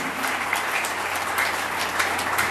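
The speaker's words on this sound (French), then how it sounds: "Applaudissons encore très fort pour lui." Sustained applause fills a church as a congregation claps hard and evenly, a thick unbroken wash of hands with no speech standing out.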